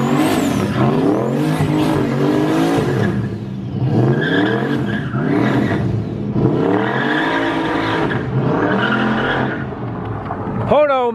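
A turbocharged 1967 Chevelle on 24-inch wheels does burnouts at a car show, its engine roaring loud and close in repeated rising revs with screeching tires, while crowd voices talk and shout underneath.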